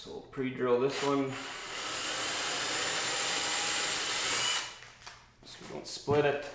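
A power drill whirs steadily for about four seconds as it pre-drills a hole in wood before a screw goes in, close and moderately loud, with someone talking briefly before and after.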